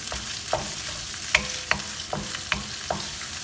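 Chopped ginger and garlic sautéing in a very hot pan, a steady close sizzle punctuated by regular sharp scrapes of a spatula stirring every half second or so.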